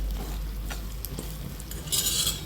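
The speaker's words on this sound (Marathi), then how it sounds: "हा मसाला खूप छान असा प्रकारे तळून घ्यायचा आहे" Spice masala sizzling in a hot iron wok while a utensil stirs and scrapes, close and steady, with a louder burst of hissing near the end.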